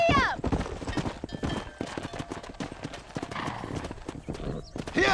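A horse gallops in Red Dead Redemption, its rapid hoofbeats clattering in a steady fast rhythm with a whinny at the start, mixed with game voices and background action.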